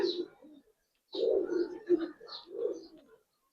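A pair of Indian Kaldom pigeons coo in short bursts, three or four throaty rolling phrases separated by brief silences, close and quiet.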